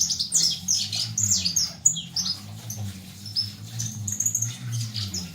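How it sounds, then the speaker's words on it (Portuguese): A molting Agressor CMA canary calls in a continuous run of high chirps and twittering, fairly close, over a steady low hum with no talk. "é desse jeito aí, ó, barulhando, fazendo barulho"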